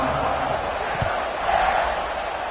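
A stadium crowd at a college football kickoff, Arizona State in the fourth quarter of a tied game, roars in a steady, dense wash of cheering with brief crowd surges and no clear voices rising above it.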